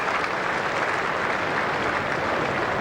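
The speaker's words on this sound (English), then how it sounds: "The crowd stands in appreciation," A cricket crowd at a 2002 England versus Sri Lanka Test match applauds a century, with dense, sustained clapping heard at a distance and holding steady throughout.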